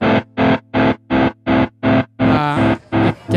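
A distorted guitar through a Beetronics Zzombee tremolo pedal set to square wave chops on and off in a steady, hard-edged pulse, about eight even bursts with a brief warbling swell near the end.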